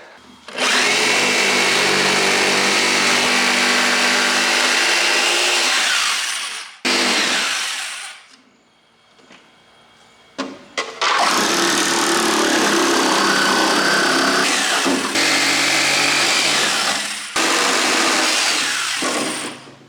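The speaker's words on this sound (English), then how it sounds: "But we got the saw out, and it's time to start cutting." A power saw cuts a template for a large car wing on a Porsche Panamera, loud and sustained with brief pauses between passes, a quiet gap in the middle, and no talking.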